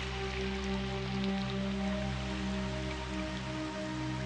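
Heavy rain pours steadily onto dense forest in New Zealand's Fiordland, a constant close hiss of drops on foliage beneath a low, sustained tonal hum, unbroken for the whole stretch.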